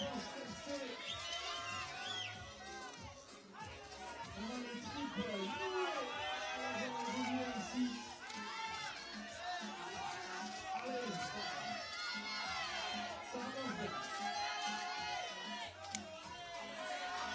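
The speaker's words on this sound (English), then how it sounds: "you can hear the French crowd, allez, allez, allez, willing her on" Large French crowd at an ice climbing World Cup lead final in Champagny, France, chanting and cheering a climber in a dense, sustained roar with voices rising and falling and a commentator talking over it.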